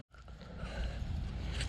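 A New Holland TC30 compact tractor engine idles after warming up, a low steady rumble with a faint rattle that rises in level after a brief gap at the start.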